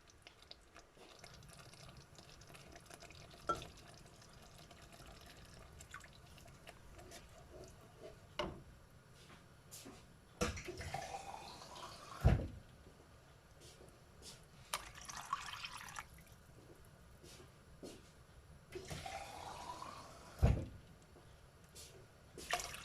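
Water is poured into a pot of Thai curry with pork, heard as faint trickles and splashes in short separate bursts against quiet kitchen background.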